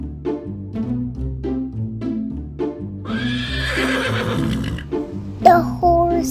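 A horse whinnies loudly near the end over a steady rhythmic music bed with clip-clopping hooves, the neigh rising as a bright, wavering cry after about three seconds in a farm setting.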